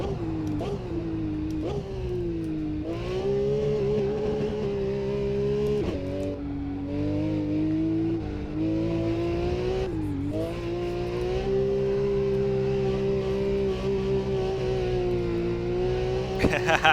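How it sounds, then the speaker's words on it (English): A Porsche sports car engine revs hard toward its rev limiter, a loud, sustained engine note rising and dipping with shifts and bouncing off the limiter, heard from inside the car with some faint talk beneath it. "Up to red line. There's the rev limiter."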